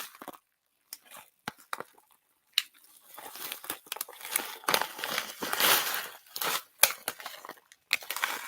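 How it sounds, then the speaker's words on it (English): Close crinkling and rustling of a hermetically sealed plastic bag being handled indoors, irregular bursts of sharp crackles separated by brief pauses, growing busier and louder midway. "That's the hermetically sealed bag."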